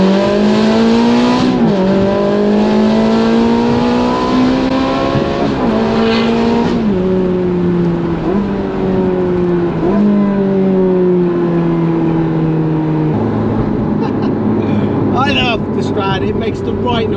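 A Ferrari 360 Challenge Stradale accelerates hard, its engine rising in pitch through several gear changes, loud and close, with a brief tire squeal near the end; a voice talks over it.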